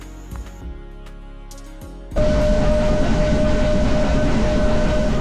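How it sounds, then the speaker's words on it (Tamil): A train moving slowly rumbles steadily on the rails after a quieter start, with a constant low roar and a faint high whine running through it. "ட்ரெயின் இதே மாதிரி தான் ஸ்லோவாக போகும்,"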